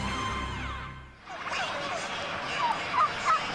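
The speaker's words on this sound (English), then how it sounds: "that's a happy group of turkeys right there. You hear them?" A group of turkeys gobbles in a Thanksgiving broadcast segment, with quick, warbling gobble bursts late in the clip over a noisy broadcast background.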